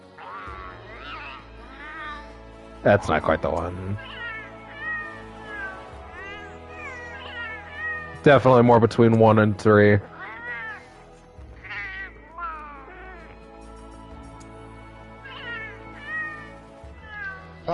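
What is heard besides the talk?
cat-like meowing talk of companions in video game Monster Hunter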